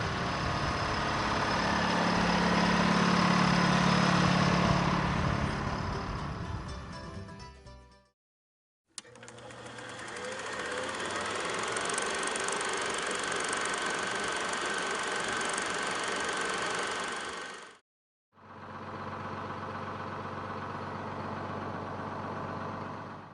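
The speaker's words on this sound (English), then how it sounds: "Now listen to the 435 diesel." A John Deere 435 diesel tractor engine idles steadily at close range, a low continuous rumble broken by two brief silences.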